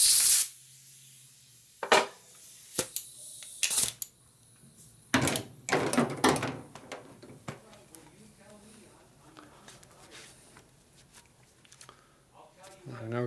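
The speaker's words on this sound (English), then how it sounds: "I'll go ahead and blow it out. Make sure the air goes through." Compressed air blasts through a bushing hole on a 1942 Harley-Davidson WLC/WLA 45ci chassis during reassembly. Several short, sharp hissing bursts come close and loud, separated by quieter gaps with small clicks and handling noises.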